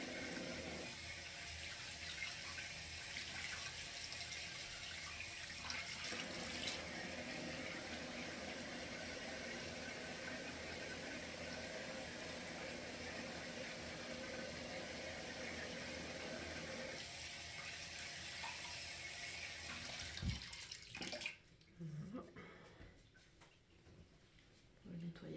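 Tap water runs steadily at close range while soap is rinsed off a face at a sink, a continuous broadband splashing that stops abruptly near the end; a voice talks over the flow.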